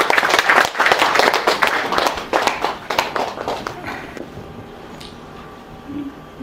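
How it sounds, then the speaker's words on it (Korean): A year-end gathering's audience applauds warmly, with dense clapping for about four seconds before it thins and dies away into near-quiet. "여러분 큰 박수 부탁드립니다."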